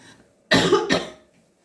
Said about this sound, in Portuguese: Desculpa, gente, eu tenho que tossir.